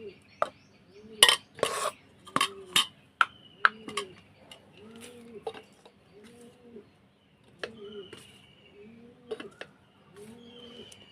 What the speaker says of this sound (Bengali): একটা কৌটো নিয়েছি, এই কৌটোটার মধ্যে মশলাটা ভরে রেখে দেবো